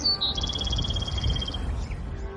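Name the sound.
birds chirping outdoors in spring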